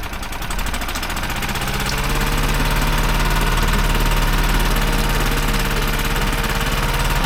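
A small outboard boat engine runs steadily, a loud continuous rattling drone with a rapid pulsing beat that holds level throughout.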